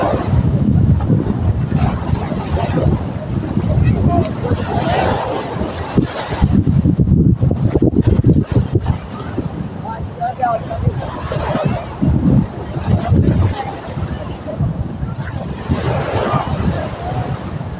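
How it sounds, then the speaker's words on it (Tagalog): Sea waves and wind at a beach resort in Zambales, a loud steady wash of surf and buffeting wind on the microphone throughout, with faint voices under it. "pakita sa yung dagat"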